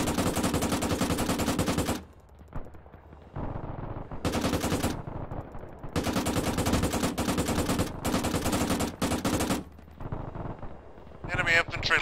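Loud, close machine gun fire in ARMA 3 from a gun nest, long sustained bursts of rapid rattling shots broken by short pauses, with low rumble and voices in between.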